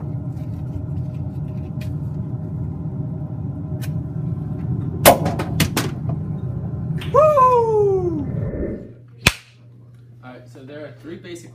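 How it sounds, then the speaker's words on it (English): Acetylene gas is ignited and burns, with a sharp crack, a few fast pops and a descending whistle, then a single loud bang over a low rumbling background. "When you light the acetylene on fire, it reacts with five O2s in the air"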